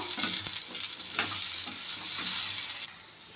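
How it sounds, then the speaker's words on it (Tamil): Chopped onions sauté in hot oil for a green pea kurma, giving a soft continuous sizzle with intermittent scraping and stirring sounds close by and no talking. "இப்போ இந்த எண்ணெயில் கொஞ்சம் இந்த பெரிய வெங்காயத்தை சேர்த்துக்கிறேங்க அதனால் அந்த பெரிய வெங்காயம் நல்லா வதங்கணும்"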